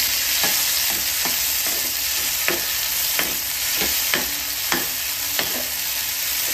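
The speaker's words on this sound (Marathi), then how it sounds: "त्यामध्ये आता आपण टोमॅटो टाकून घेणार आहोत आणि टोमॅटो सुद्धा तेलामध्ये चांगला असा फ्राय करून घ्यायचा आहे" Tomatoes fry in oil for an okra dish, a bright continuous sizzle close to the pan with a regular series of spatula strikes about every second, no talking.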